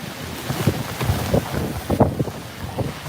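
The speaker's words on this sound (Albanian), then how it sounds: "ka shumë erë, era është shumë e fortë" Strong wind gusting during snowfall in Elbasan, Albania, with loud buffeting microphone rumble and repeated bursts swelling and fading throughout.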